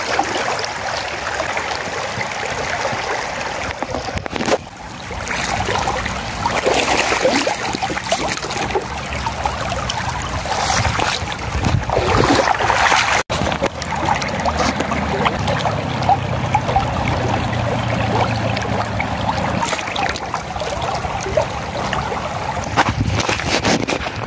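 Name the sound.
river water flowing after rain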